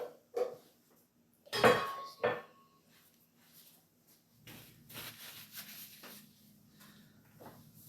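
Country cornbread batter stirred in a bowl, heard as a few scraping, rubbing strokes of a utensil, with a loud pair near the start and softer, scattered scrapes after a pause, close and with no talking.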